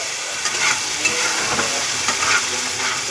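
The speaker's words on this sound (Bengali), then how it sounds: "এরপর আমি এটাকে ভালো করে নাড়াচাড়া করে নেব" Masala with cashew paste being stirred in a hot pan, a steady fry-sizzle with soft scraping strokes of the spoon running throughout, close and moderately loud, no talking.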